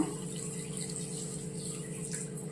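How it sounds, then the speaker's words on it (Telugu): Water being poured onto sugar in a pan for boondi laddu syrup makes a soft, continuous trickle and splash, faint and steady, with no talk. "వాటర్ అయితే యాడ్ చేస్తున్నాను"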